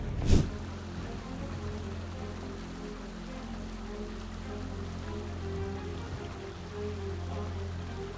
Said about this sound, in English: Amid heavy rain and flooding, Chicago's storm drains overflowed, sending water gushing through the streets